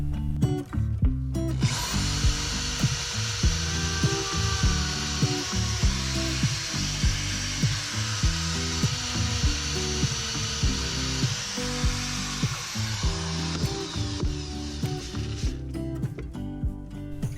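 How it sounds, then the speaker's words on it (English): Power drill boring into an old piece of scrap wood on a countertop, a steady whine that runs on for about fifteen seconds with rhythmic low chugging underneath, close and loud, then winds down near the end. "then you can drill away."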